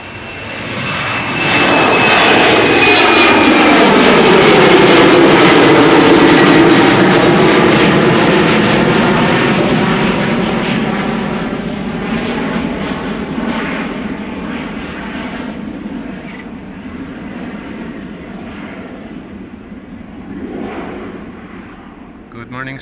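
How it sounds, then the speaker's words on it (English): A KLM Embraer 190 jet takes off from Schiphol's Polderbaan, its engines swelling to a loud, close roar, then fading slowly into the distance. "this is KLM flight 1303 going to Gdansk, Embraer 190."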